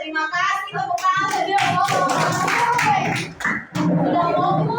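Schoolchildren in a classroom coding lesson clap their hands in a quick, uneven burst, mixed with their young voices chanting and calling out close by.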